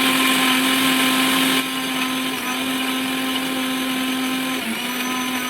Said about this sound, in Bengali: এরপর আমি মিক্সির মধ্যে এগুলো দিয়ে দিচ্ছি একটা পেস্ট বানিয়ে নেওয়ার জন্য।